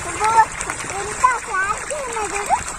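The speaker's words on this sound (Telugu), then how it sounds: "మళ్ళీ బంద్ అవుతుంది, వాటర్ ఆగి ఆగిపోతుంది పంపు" Water gushes steadily from a farm pump pipe at a mint field, a close, continuous splashing rush while voices talk over it; the pump is said to keep cutting out.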